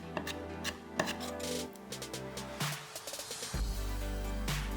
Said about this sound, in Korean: 매콤 깔끔한 청양고추 1개는 칼집을 십자로 넣고 작게 슬라이스해서 담았다